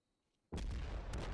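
In a video game, after near silence, a naval gun turret blast erupts suddenly and loudly, leaving a sustained roaring rumble.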